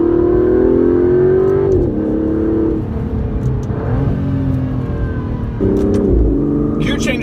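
Aston Martin DB11 accelerating under throttle, engine rising smoothly in pitch through several gear changes with brief dips between them, loud and near with a deep rumble.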